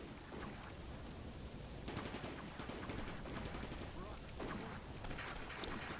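Gunfire rattles across a battlefield in the Combat Mission Barbarossa to Berlin war game, a dense, continuous, loud crackle of shots with heavier bursts swelling through the whole stretch.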